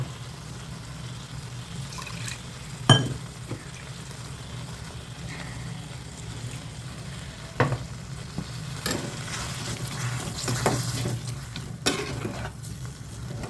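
Water is poured into cauliflower kurma simmering in a pan and stirred, giving a steady sizzle and bubbling with a few sharp spoon-against-pan clinks and scrapes; no one speaks.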